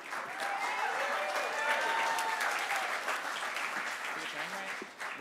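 Sustained applause with scattered cheers and whistles from a live storytelling slam audience welcoming the next storyteller, steady and full throughout before tapering slightly at the end.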